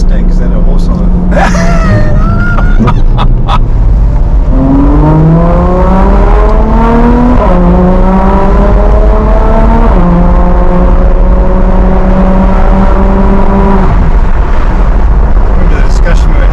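Ferrari F12 TDF engine revving hard, with rising harmonic sweeps that climb through the gears and hold steady before dropping off, loud and close inside the cabin, with brief voices near the start.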